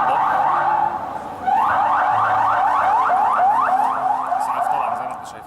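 An ambulance siren wails in Gaza, a loud, close, rapid rising-and-falling electronic warble that breaks off briefly, then resumes in a steady repeating sweep.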